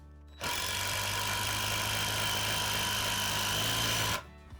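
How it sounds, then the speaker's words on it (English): A power impact driver drives a screw in one sustained burst of rapid mechanical hammering for about four seconds, loud and close, then stops. "you do have to press quite firmly with the impact driver for it to work"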